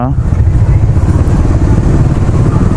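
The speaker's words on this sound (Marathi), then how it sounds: "वडनगरच्या छोट्या छोट्या गल्ल्यांमधून आम्ही बाईक काढत आहे" A motorcycle ridden through the narrow lanes of Vadnagar on a long-distance highway trip, heard as a loud, close, steady engine rumble with rushing wind noise throughout.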